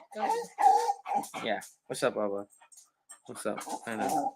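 A dog whimpers and whines softly at a movie-night gathering, mixed in with someone speaking to it in a friendly tone; the dog's sounds are faint and brief between his words.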